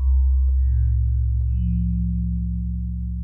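Echo Keys preset from a Karanyi Audio synth plays a few sustained electric-piano-like notes with a soft bell tone, ringing cleanly and alone with a steady decay.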